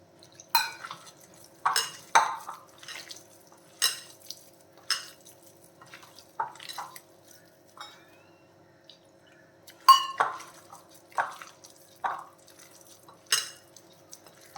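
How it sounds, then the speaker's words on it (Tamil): A spoon stirs milagai bhaji batter with water in a bowl, giving sharp irregular clinks and wet slaps that come in bursts across the stretch. No one speaks. "சேர்த்துட்டு எல்லாத்தையுமே நல்லா மிக்ஸ் பண்ணிடலாம்"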